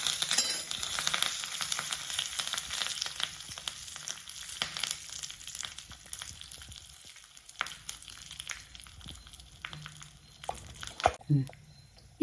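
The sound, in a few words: tempering spices crackling in oil with curry leaves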